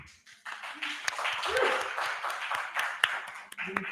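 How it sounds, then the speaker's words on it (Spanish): Scattered clapping from a small audience at a book presentation, uneven and moderate in volume, mixed with voices talking over it. "Un aplauso para el autor, por favor."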